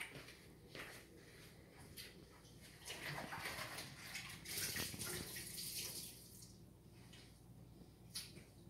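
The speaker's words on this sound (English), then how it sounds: "Let me get my hands washed." Water runs from a kitchen tap while hands are washed, a faint, uneven splashing that swells and fades as the hands move through the stream, with no talking.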